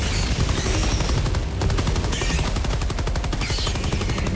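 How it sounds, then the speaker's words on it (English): A machine gun sentry fires in the video game Helldivers 2, a loud, dense, continuous burst of rapid shots with no pauses, heard up close. "If anybody needs it, I am putting down a machine gun."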